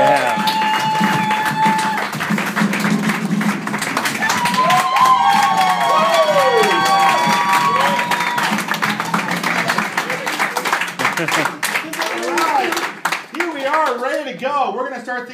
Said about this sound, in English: keep that applause going for our JTF cast!